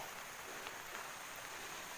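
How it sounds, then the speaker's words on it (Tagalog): Steady outdoor rain hisses evenly and softly throughout, a dense wash of falling drops with no talk. "mukhang palakas ng palakas yung ulan"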